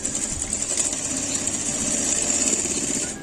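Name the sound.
sewing machine stitching blouse sleeve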